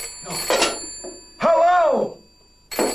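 A telephone bell rings in short, bright bursts at the start and end, with a voice calling out loudly between the rings.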